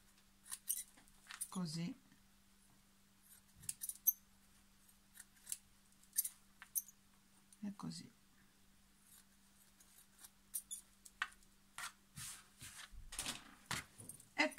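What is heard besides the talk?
scissors cutting excess padding of Easter egg centerpiece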